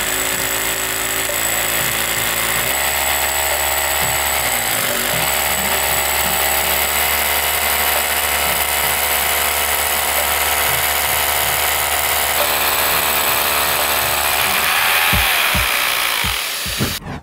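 A hammer drill with the hammer action switched on bores into concrete while a vacuum pulls away the dust, a loud, steady grinding roar layered with a constant suction hiss that runs almost unbroken before it winds down at the end.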